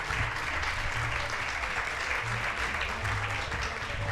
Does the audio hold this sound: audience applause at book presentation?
yes